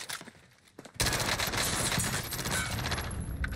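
PPSh submachine gun firing in a video game, starting after a quiet moment with one sharp shot, then a long rapid stream of automatic fire, loud and close, no talking.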